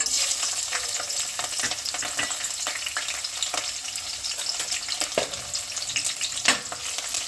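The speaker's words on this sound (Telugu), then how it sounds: "పచ్చిమిర్చి వేగాలి కొంచెం లైట్గా వేగిన తర్వాత ఆనియన్ వేస్తున్నాను" Green chillies fry in a little oil in a small pan, crackling and hissing steadily up close, with frequent scraping stirs and sharp pops throughout, and no voices.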